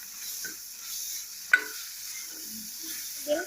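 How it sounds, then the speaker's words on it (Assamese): A steady hiss of ginger-garlic paste frying in a pan, with a few sharp scrapes and taps as it is stirred. "এতিয়া মই ইয়াত আদা নহৰু পেষ্টখিনি দি দিছোঁ আৰু এইখিনি ভালদৰে অলপমান ভাজি ল'ম।"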